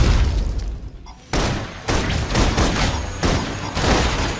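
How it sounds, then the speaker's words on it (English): Loud bursts of gunfire in the video game Love and Deepspace come in several rapid volleys, close and harsh, with brief gaps between them. "Focus fire. Requesting full suppression gunfire."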